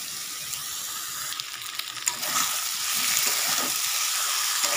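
Ginger, tomato and green chilli paste with red chilli leaves sautéing in a pan, giving a steady close sizzling hiss that swells slightly midway and carries on without a break, with no voices.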